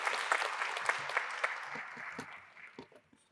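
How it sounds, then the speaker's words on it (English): A crowd claps loudly at first, then the applause thins out and fades to scattered claps. "give them a round of applause"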